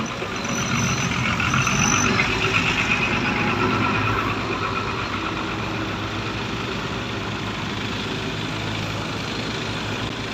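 A dump truck fitted with a big turbo idles nearby, a loud steady diesel rumble with a faint whine on top, holding constant throughout without speech.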